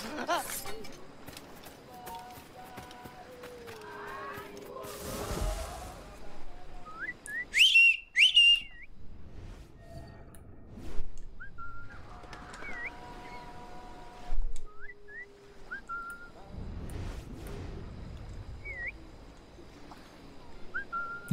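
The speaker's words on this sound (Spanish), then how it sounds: "No sé para qué sigue silbar si nunca vienen." Short whistled calls from a character in the video game Assassin's Creed: Freedom Cry sound repeatedly and fairly faintly over ambient game sounds, with occasional louder bursts and someone talking at times.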